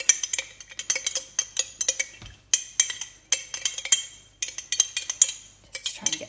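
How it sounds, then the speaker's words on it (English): A spoon stirs a tamari soy sauce mixture in a glass noodle jar, making rapid close clinks and scrapes against the glass in rhythmic bursts with brief pauses between them. "And then we are going to give that a wee stir."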